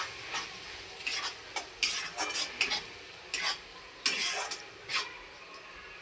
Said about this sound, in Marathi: हा आता मसाला आपण तेल सुटेपर्यंत चांगला परतून घेऊया।